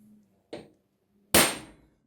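A center punch is struck into a metal mating plate for a motion simulator build, giving two sharp metallic hammer impacts, a lighter tap followed by a louder ringing strike, each decaying quickly.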